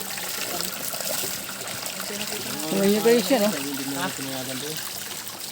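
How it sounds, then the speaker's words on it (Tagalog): Strong flowing water rushes steadily outdoors on a piece of land, with people talking over it throughout. "Lakas ng tubig."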